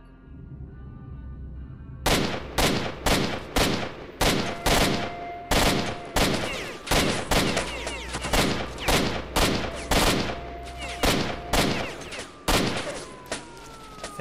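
Gunfire in the shooter S.T.A.L.K.E.R. Shadow of Chernobyl: after a quiet start, a long run of sharp, loud individual shots at an uneven, fairly quick pace, some close together, continuing to the end.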